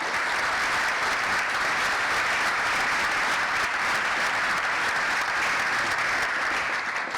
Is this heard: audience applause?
yes